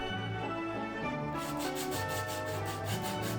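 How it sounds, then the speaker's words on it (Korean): Sandpaper rubs steadily across a hard cosplay prop surface before putty, close and continuous, with quick rhythmic back-and-forth strokes growing brighter partway through. "퍼티를 하기 전에 사포로 대충 한번 갈아내 주었습니다"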